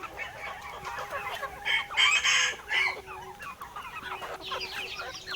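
Several free-range village chickens cluck and squawk close by while eating azolla, with a louder burst of excited calls midway and softer clucking continuing around it.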